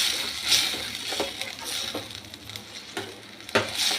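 Papaya curry in a pan, freshly splashed with ginger-turmeric water, bubbles and sizzles softly under intermittent stirring scrapes, close and moderately loud.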